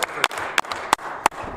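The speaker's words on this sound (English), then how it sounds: "Yes, they do deserve a round of applause." Applause in a provincial legislative chamber: a steady wash of clapping with several sharp, louder claps standing out at regular intervals, fairly close and without speech.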